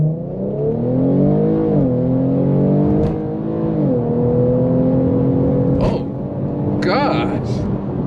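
Infiniti Q50 with a VR30 engine and new transmission accelerating hard in sport mode, engine note climbing in pitch through several gear shifts, loud from inside the cabin, with people talking over it.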